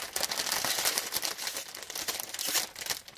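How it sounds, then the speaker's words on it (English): Large plastic package bag crinkling and rustling continuously up close, with dense crackly bursts throughout and no voices. "Lots of crinkling. This is a big bag."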